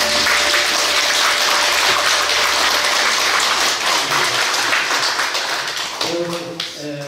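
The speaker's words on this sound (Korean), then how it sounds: "하나님께 영광의 박수 드립니다." Congregation applause at a New Year's Eve church worship service, loud dense clapping that thins toward the end as a voice and tonal sounds come in over the fading claps.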